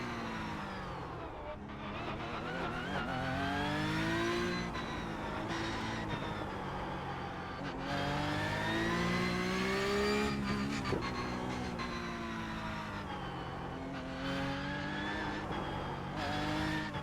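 A Porsche 911 Cup 992.2 race car engine in the iRacing simulator screams continuously, rising through the revs and dropping sharply with each gear change, loud and close.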